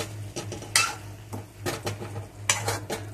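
Marinated soybeans stir-fried in masala with boiled potatoes waiting, a spatula scraping and clinking against a pan in repeated bursts over a low steady hum, close and moderately loud.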